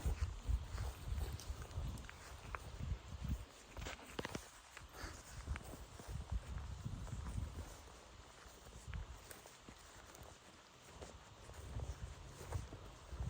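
Hooves of a Belgian draft mare clip-clop at a horse sale, irregular footfalls in the middle distance with rustling and outdoor background noise, fairly quiet overall.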